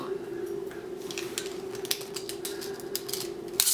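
Scissors snip through a thin aluminum soda can down the middle, giving a series of small crisp clicks and metallic crinkles over a steady low hum, close and fairly quiet.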